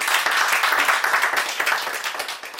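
An audience at a boot camp event in Manali claps together in a steady, moderately loud burst of applause that fades slightly toward the end.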